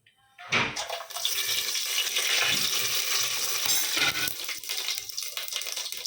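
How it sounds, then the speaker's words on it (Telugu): Whole spices hit hot oil and ghee in a pan for pulao, and a loud, steady sizzle holds close and unbroken for several seconds after a brief quiet start. "ఆయిల్ వేడెక్కాక అన్ని మసాలాలు వేసేస్తున్నాను చూడండి"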